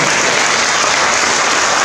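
Audience applause welcoming a county councillor at a public launch event in Yunlin, a dense, steady wash of clapping filling the room at full volume with no voices on top.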